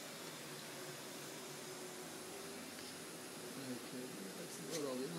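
Steady broadband whooshing of a dryer running continuously, fairly quiet, with faint voices underneath toward the end.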